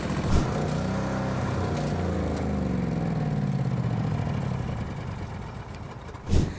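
An engine keeps running after its fuel supply is shut off, burning what is left in the carburetors. It gives a loud, steady mechanical drone whose tone slowly sags and drops, with a knock near the start and a thump near the end.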